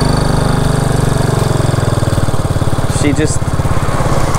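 Honda Dream motorbike engine running steadily close to the microphone, a continuous pulsing mid-low drone throughout, with a person speaking briefly over it.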